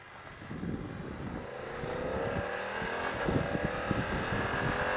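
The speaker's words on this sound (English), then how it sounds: "Get ready for some Bucharest rush hour traffic" Busy rush-hour city traffic in Bucharest rumbles along with passing cars and engines accelerating, a mid-distance wash of road noise that gradually swells and thickens, with no talking.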